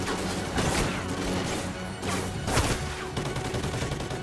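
Bursts of rapid gunfire from the video game Call of Duty: Ghosts, loud and close, in several dense volleys spread across the clip with brief gaps between them.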